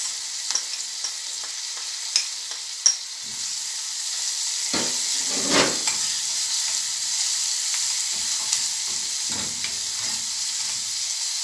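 Garlic sizzling in a pan, a steady close frying hiss with occasional clinks and scrapes of stirring, continuous and fairly loud.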